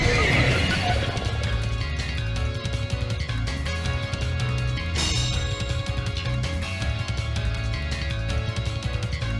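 The horse Pokémon Glastrier whinnies in a Pokémon game, with clip-clopping hooves and game music or effects underneath, the neigh loudest near the start.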